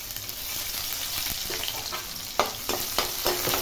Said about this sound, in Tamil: கடுகு உளுந்து பொரியுது.